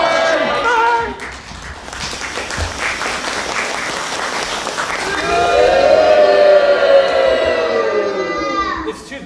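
A pantomime audience of children and adults boos and shouts together in a loud, sustained wash of crowd noise. A performer's voice rises over it near the end.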